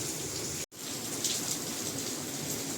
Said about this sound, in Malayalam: മഴ കുറഞ്ഞില്ല